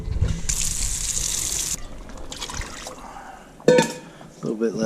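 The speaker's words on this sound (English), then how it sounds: "I'm going to add a little bit more water because it's thickening up so much now." Water poured into a pot of thickening red beans for South Louisiana red beans and rice: a gushing, splashing pour lasting over a second, followed by a softer trickle, a sharp clatter and a voice speaking nearby.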